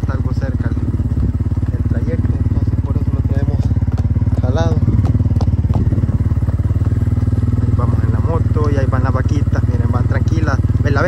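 A motorcycle engine putters steadily close by on a ranch as the rider tows a horse alongside, with rattling and occasional thumps over the ride while someone talks throughout.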